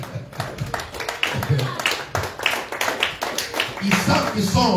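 A church congregation claps to acclaim the Lord, a run of loud, uneven handclaps repeating over several seconds, mixed with voices.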